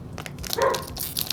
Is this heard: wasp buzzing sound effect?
no